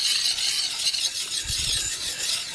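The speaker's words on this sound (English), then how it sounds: "you want your stone flat against the bevel" A sharpening stone rubs in circular strokes flat against the bevel of a drawknife, producing a close, steady, gritty hiss with soft rhythmic pulses.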